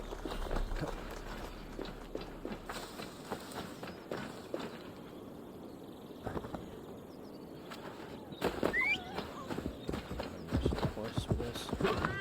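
Horse hooves clip-clop steadily on the ground while riding in Assassin's Creed Valhalla, a continuous galloping rhythm over outdoor game ambience with brief louder bursts near the end.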